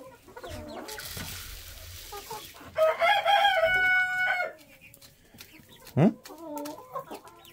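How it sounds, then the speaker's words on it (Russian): Chickens cluck close by while a rooster lets out a loud crow, followed by more clucking and a sharp squawk. A person speaks briefly among the birds. "Вот эта курица. Давай эту хватай."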